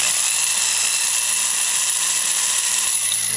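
Steady high-pitched whine of a drill boring into soft metal for button head screws on a Volkswagen Beetle wheel, continuous and close, with a faint low mechanical hum beneath and no talking.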